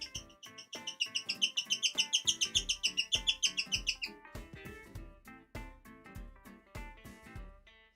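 Small bird chirping in rapid repeated tweets for the first half, then sparser clicks and chirps over a cluttered background; no talking.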